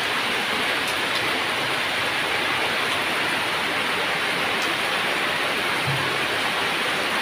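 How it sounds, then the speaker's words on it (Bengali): Heavy rain pours steadily over a remote village, a dense, continuous hiss close by with no voices and no breaks. "এই যে দেখেন বৃষ্টি, আজ প্রচুর বৃষ্টি পড়তেছে।"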